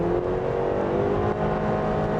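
Cabin of a Honda CR-V Hybrid with a CVT, its engine droning hard and steady at high highway speed, with dense road and wind noise throughout and no talk.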